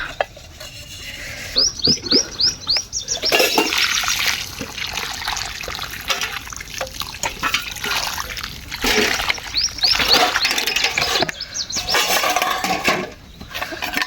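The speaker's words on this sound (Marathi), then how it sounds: "याला पाणी घालूया" Water poured onto a newly planted flowering tree at a house doorway, splashing and trickling in uneven bursts across the soil, with brief bird-like chirps and background noise around it.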